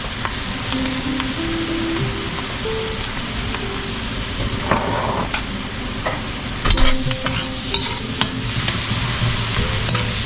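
Onion sautéing in butter in a very hot pan gives a loud, steady sizzle, with occasional clinks and scrapes of stirring heard close up.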